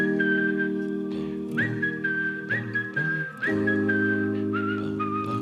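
A melodic whistled line in a song, clear and prominent over sustained backing chords, moving through several held notes.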